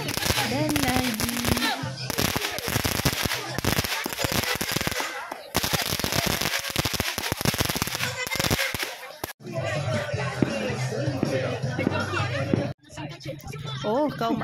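Strings of firecrackers go off at a Hari Raya open house, a long and loud run of rapid popping with brief breaks, while people chatter nearby.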